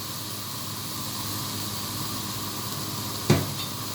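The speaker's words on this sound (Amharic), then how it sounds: "ይኸው ሽንኩርታችን እንደዚህ እየተቆላላ ነው።" Onions frying in oil with spices nearby give a steady, even sizzle and hiss throughout, broken by one brief sharp clatter near the end.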